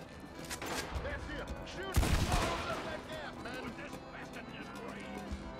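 Shotgun blasts and other gunfire in Red Dead Redemption 2 go off amid a game firefight, a sharp loud boom standing out near the middle, with someone talking over the shooting.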